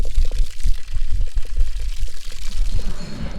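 Fresh spring water gushes into a cattle water tank on a farm, a loud, close, continuous pour with a churning, bubbling splash that holds steady throughout.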